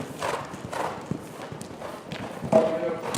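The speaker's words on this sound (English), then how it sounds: "We're getting some horse jumping here." Horse hooves thud and clop irregularly on soft ground during a jumping lesson, with a louder impact near the end, under faint background voices.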